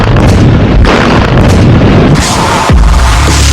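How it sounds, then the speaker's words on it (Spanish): A large blast at a copper mine erupts in a loud, sustained roar of explosion and rumbling debris that fills the whole span, with a second heavy burst partway through and no voices. "con una gran explosión."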